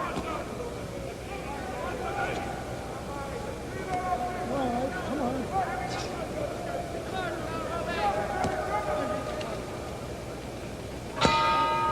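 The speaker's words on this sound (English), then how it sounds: "There's the bell." A boxing ring bell ends round eight of a middleweight fight, a single sharp clang near the end, under a commentator's continuous talk and low arena murmur.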